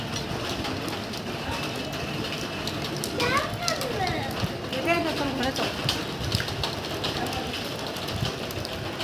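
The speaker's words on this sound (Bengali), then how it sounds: "এই দেখো বৃষ্টি পড়ছে।" Rain falls steadily in Chennai, a continuous hiss of drops on surfaces under voices of people and children talking and calling nearby.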